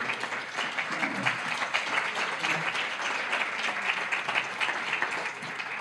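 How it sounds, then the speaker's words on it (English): A dinner audience at a town hall of fame banquet applauds steadily and warmly, dense sustained clapping filling the room without pause for several seconds. "so they really deserve your applause"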